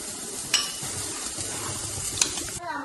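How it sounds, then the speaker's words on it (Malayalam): Chicken frying in a pan while being stirred: a steady, close sizzle with utensil scraping and two sharp clinks against the pan. "അപ്പൊ നമ്മളുടെ ചിക്കൻ അതിലേക്ക് ഇട്ട് കൊടുക്കാം വേവിക്കാൻ വേണ്ടിയിട്ട് ഇട്ട് കൊടുക്കണം കേട്ടോ"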